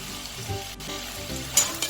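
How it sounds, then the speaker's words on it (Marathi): Eggplant sautéing in a pan for traditional Maharashtrian khar wanga, dusted with a little niger seed powder, giving a steady close sizzle with a brief stir near the end, no voices. "आणि परत एकदा वांगी परतून घेऊया"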